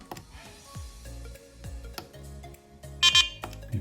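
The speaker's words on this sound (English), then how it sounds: "Long press again and the beeper will turn on." A BetaFPV HexaCharger Pro 1S six-port charger gives a brief, bright electronic beep near the end, following a few soft clicks and taps close by.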